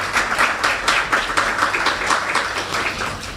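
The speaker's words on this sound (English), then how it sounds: "Please give them a round of applause." A round of applause from the audience at a U.S. Embassy public forum on the student work and travel programme, with brisk, rhythmic clapping close by that swells and fades in waves.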